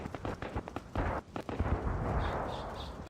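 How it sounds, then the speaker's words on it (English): Tank cannon fire in the World of Tanks Blitz video game: a run of sharp booming blasts and impacts, loud and close, followed by a sustained rumbling roar with no talking. "so we can all enjoy the pretty tank fire"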